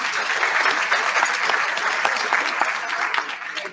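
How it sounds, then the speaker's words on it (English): An audience at an awards ceremony gives a steady round of applause, dense and sustained clapping from many hands filling the room, fading slightly at the end. "give every one of yourselves a round of applause"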